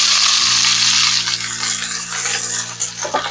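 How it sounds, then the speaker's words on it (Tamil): Onion drops into fennel seeds frying in hot oil in a pan, giving a loud, steady close sizzle with a brief burst of extra crackle as it lands, no talking. "சோம்பு பொரிஞ்சோடனே இந்த வெங்காயம் ஆட் பண்ணிக்கலாம்"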